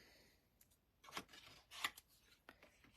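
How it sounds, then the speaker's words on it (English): Scissors trim excess white paper beside a mini cut and emboss machine, giving a few quiet, crisp snips spaced apart against a near-silent background. "I'm going to just cut off this extra white."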